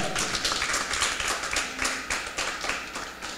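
Church congregation applauds during a Spanish-language sermon, a moderate, fairly distant spread of clapping with uneven rhythm and a brief tone or voice briefly showing through.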